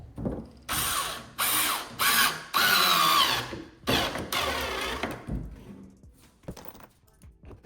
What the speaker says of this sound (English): Using the screws and the drill bit that came with the jig